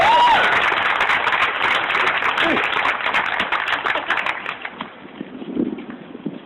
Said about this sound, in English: one more round of applause and just put it right here